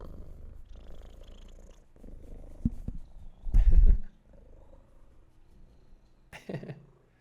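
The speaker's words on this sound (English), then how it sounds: "Can you guys hear the purring?" A big Maine Coon cat purrs up close with a low, continuous rumbling drone, broken by a few louder snorts and breaths, with a quiet room behind it.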